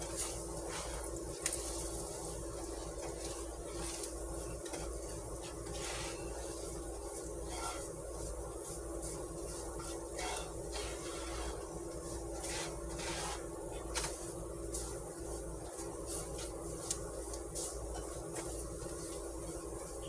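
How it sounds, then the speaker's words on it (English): Flour stirred in a hot pan gives a soft, continuous rubbing scrape with scattered light clicks of the utensil, quiet and steady with no voices. "You're going to keep on stirring that flour"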